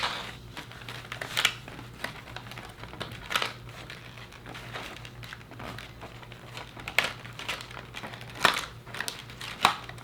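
Plastic packaging pieces slid off a Monster High G3 Venus McFlytrap doll during unboxing, with close, quiet crinkling and scattered sharp clicks and rustles.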